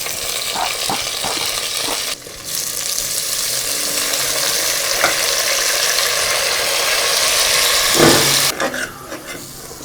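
Onions fry loudly in a pan and are stirred, a steady close hiss and sizzle with occasional scraping and clatter from a utensil.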